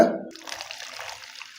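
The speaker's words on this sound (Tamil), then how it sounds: "ஒரு ரெண்டு கப் தண்ணி தான் விட்டுருக்கேன்" Water splashes briefly into a container while homemade ice lollies are prepared, a short close pour that trickles and settles within a second or two.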